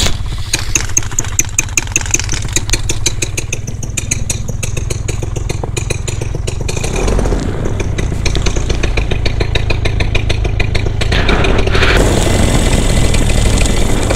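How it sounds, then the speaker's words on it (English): A paramotor flexwing ultralight engine cranks with a rapid, even clatter, then catches and settles into a louder, steady mechanical drone close to the microphone, running alone with no talk. "I'm going to try and start the engine and see if I can get any readings off the fuel gauge."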